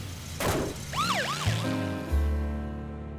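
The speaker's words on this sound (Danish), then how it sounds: "Peter havde altid drømt om en tur i ambulance" An ambulance siren in a children's cartoon gives a short rising-and-falling wail, loud and close, then fades into a steady low engine-like drone with no talking.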